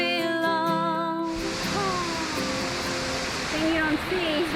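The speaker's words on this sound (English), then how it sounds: "it wasn't long before we finally arrived at the waterfall." Jungle waterfall reached by motorcycle in Panama's mountain towns: a steady, broad roaring rush of falling water fills the scene after a brief musical passage at the start, with faint melodic tones over the constant wash.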